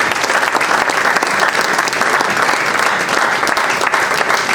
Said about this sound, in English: Please, another round of applause for the father of the students.